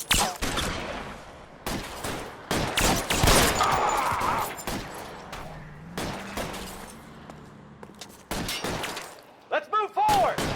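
Gunfire rattles through a shootout in the crime game L.A. Noire, with bursts of rapid shots, sharp cracks and breaking glass coming in waves, loud and close, with quieter gaps between volleys.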